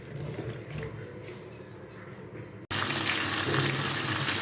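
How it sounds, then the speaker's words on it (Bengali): Raw green bananas from a home-grown plant are washed under a kitchen tap. A low trickle runs at first, then the flow jumps abruptly to a loud, steady gush of running water. "এখন এটা ধুইয়ে ভালো করে পরিষ্কার করে নেব"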